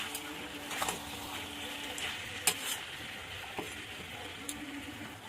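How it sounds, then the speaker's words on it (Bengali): Chicken and potatoes being stirred with spices in a pan, soft sizzling with occasional scraping clicks and knocks of the spoon against the pan, fairly quiet and close, with talk heard alongside. "আলু দেবো। চিকেনের সঙ্গে মিশিয়ে নেব মশলার সঙ্গে।"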